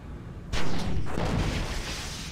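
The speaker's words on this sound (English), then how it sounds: "Can I shoot out the turret on the other side?" A single gunshot at a turret in the video game Oni, a sharp loud bang followed by a rumbling decaying tail, heard alone.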